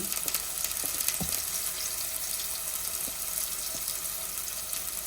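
Green chili and ginger sizzle steadily in hot oil in a pan for a fish pulimunchi, with a dense, continuous frying hiss. A few soft knocks are heard, and no one speaks.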